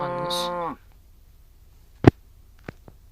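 A cow gives a single loud, close moo lasting under a second, followed by quiet rural background and a few sharp knocks or clicks.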